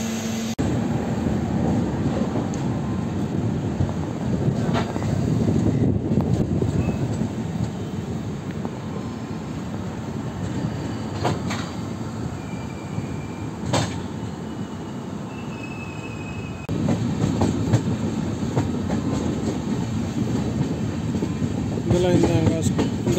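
Continuous rumble of an Uday Express AC double decker train running between Coimbatore and Bengaluru, steady and close with rhythmic wheel clatter and a few brief squeals, no talk.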